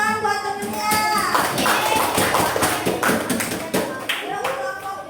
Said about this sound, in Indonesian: dah tepuk tangan buat temennya